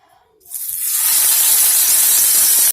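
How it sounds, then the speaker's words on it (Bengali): Prawns rubbed with salt and turmeric dropped into hot mustard oil, a sudden loud burst of sizzling and spitting that rises quickly and holds as a steady close hiss. "দিয়ে দিলাম তেলে সবকটাই দিয়ে দিলাম"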